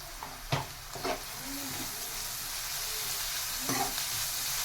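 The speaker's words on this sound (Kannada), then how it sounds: "ಈರುಳ್ಳಿ ಫ್ರೈ ಮಾಡೋವಾಗ ಸ್ವಲ್ಪ ಸಾಲ್ಟ್ ಹಾಕ್ಕೊಂಡ್ರೆ ಚೆನ್ನಾಗಿ ಗೋಲ್ಡನ್ ಕಲರ್ ಬರುತ್ತೆ ಜಲ್ದಿ" Onions frying with salt in a pan for egg rice give a steady, close sizzle throughout, broken by a few louder scraping strokes as they are stirred.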